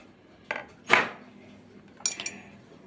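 Tray-baked mantı is served onto plates with a few separate clinks and scrapes of a utensil against metal and crockery, close and fairly sharp, with quiet pauses between.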